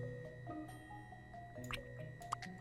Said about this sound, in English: Water droplet.